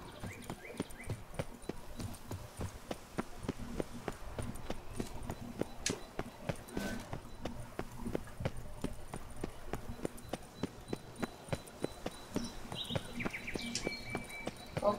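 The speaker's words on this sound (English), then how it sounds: "궁궐 안에서 말 타고 다니는 게 좋진 않으니까" Roach, the horse in The Witcher 3, trots along with a steady, evenly spaced clip-clop of hooves, moderately close, while faint bird chirps sound in the background.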